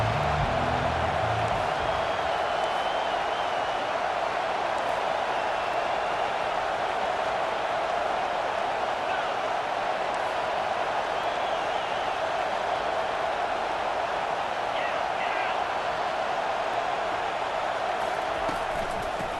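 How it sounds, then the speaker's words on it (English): Home crowd at a college football game between Arkansas and Florida, heard as a loud, sustained roar of cheering that holds steady throughout with no break. "how nice is it to have the home crowd going absolutely bananas"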